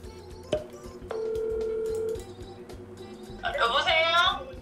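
Telephone dialing tones on a call, a short beep followed by a steady tone lasting about a second, then a burst of a voice over the line, with a faint background hum throughout.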